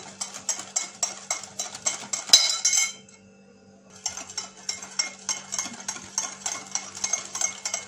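A whisk beating eggs and sugar for a blender cake in a bowl: fast, rhythmic metallic clinks and scraping strokes, close and steady, stopping for about a second before resuming at the same brisk pace.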